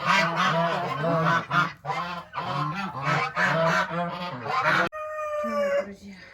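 Domestic geese on a snowy farmyard honk loudly and repeatedly in close, overlapping calls, ending with a short burst of other farm-bird sounds.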